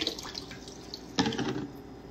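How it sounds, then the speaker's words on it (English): Liquid Rit dye is poured into a dye pot, giving soft trickling and splashing with a brief louder gush partway through, close by and without talk. "I fill it up with the restorative color Stay Rit."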